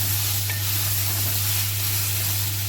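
Onions and tomatoes frying in a pan for paneer butter masala, giving a steady, even sizzle over a constant low hum, close and unbroken.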